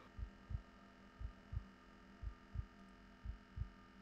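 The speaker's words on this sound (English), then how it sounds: "I hear the heartbeat going." A heartbeat in the horror video game Backroom Society thumps steadily in double beats, four pairs over a low constant hum, quiet and with no talk.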